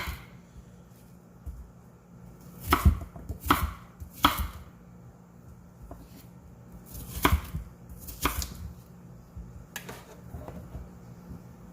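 Knife slicing fresh vegetables on a cutting board for sofrito, a handful of sharp, distinct chops in two short clusters separated by quiet pauses, close and fairly clear.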